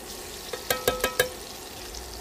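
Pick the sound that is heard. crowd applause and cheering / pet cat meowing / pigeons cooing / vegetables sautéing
vegetables sautéing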